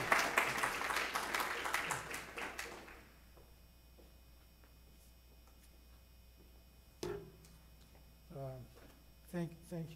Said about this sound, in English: So please give him a very warm, thunderous applause.